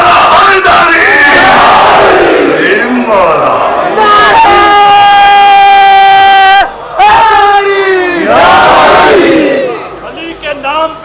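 A large crowd roars a loud, sustained chanted response to a religious slogan at a Shia gathering in Model Town, Lahore, with a lone voice calling out between massed shouts.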